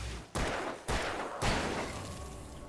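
Three distinct gunshots ring out in the Alan Wake Remastered horror game, evenly spaced and fairly loud, each with a short echoing tail, with no voices heard.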